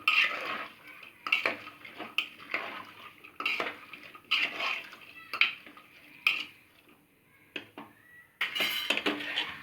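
A spoon scrapes and clinks against a pot while breadfruit pieces with salt and a little water are mixed for a Karwar-style bhaji, giving irregular bursts of metallic knocks with short pauses between.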